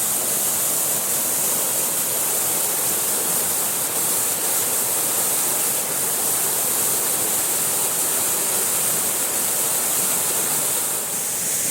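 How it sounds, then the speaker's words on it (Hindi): A large waterfall roars with a dense, steady rush of falling water, loud and close, with no talking. "देख सकते हैं इतना पानी बड़ा जो गिर रहे हैं यहाँ पे।"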